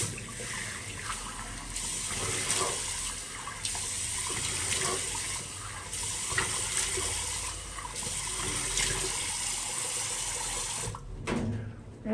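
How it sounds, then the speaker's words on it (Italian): A tap runs steadily into a sink as someone splashes cold water on their face after a shave, with faint splashing and dripping shifts throughout and a brief pause near the end. No speech. "A questo punto ci laviamo, ma questa volta con acqua fredda."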